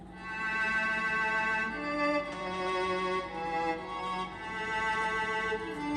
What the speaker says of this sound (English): I introduced a violin, and the violin sounds like this